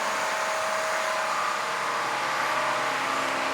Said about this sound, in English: There's the undercarriage wash.